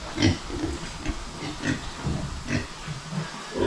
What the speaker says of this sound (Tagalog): Yung mga likuran sa ating mga baboy, oh.